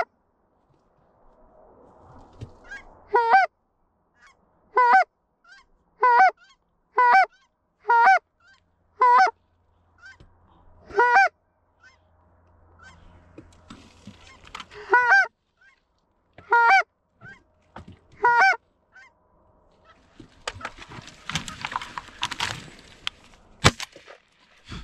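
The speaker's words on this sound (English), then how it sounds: "There's actually a fair amount of geese around." Geese at an ice hole give a series of loud, clear honks, about a dozen calls spaced a second or two apart, then a burst of broadband noise and crackling at the end.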